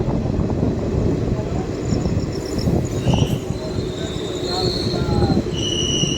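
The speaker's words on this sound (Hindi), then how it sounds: "ये है भाई Balamau junction train Doon express का बालामऊ स्टेशन पे" Doon Express standing at Balamau Junction station platform, with a loud, steady rail rumble and high metallic wheel squeals rising and fading over it.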